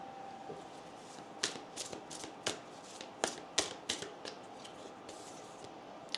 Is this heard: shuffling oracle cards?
yes